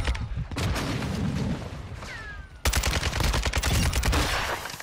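Grenade blasts and gunfire in the video game DMZ, a loud burst of booming explosions and rapid shots at close range that cuts out briefly, then resumes as dense repeated cracks and thuds.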